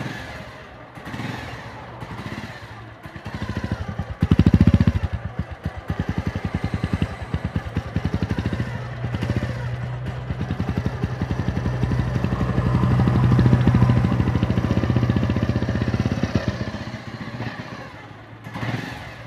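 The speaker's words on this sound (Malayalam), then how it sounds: "ആ വണ്ടി നമുക്കൊന്ന് സ്റ്റാർട്ട് ചെയ്ത് നോക്കാം." A Bajaj Pulsar motorcycle with its original silencer cranks and fires up, then settles into a loud, close, steady thumping idle with a deep rhythmic exhaust pulse that rises slightly in revs before easing.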